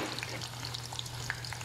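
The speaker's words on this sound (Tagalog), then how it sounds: "Prituhin natin" Sliced onions fry in a pan of hot oil for rice topping, giving a close, steady crackling sizzle with scattered pops and no voices.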